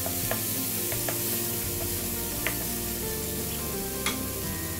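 Chopped onion and tomato frying in a pan while being stirred for a Rajasthani dal bati dish, steady sizzling with a few sharp utensil clicks, even and close, without speech.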